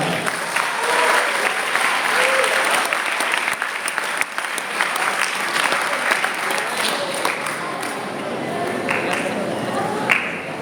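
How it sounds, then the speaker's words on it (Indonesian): Sustained applause from an audience of students at an Islamic boarding school gathering, steady dense clapping filling the whole stretch, with a voice faintly heard beneath it. "Kasih tepuk tangan."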